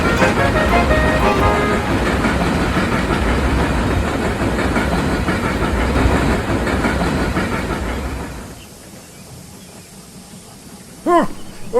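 A heavy goods train rumbles past loudly with rattling, clattering wagons for several seconds, then the noise drops away abruptly, leaving near quiet and a brief squeak.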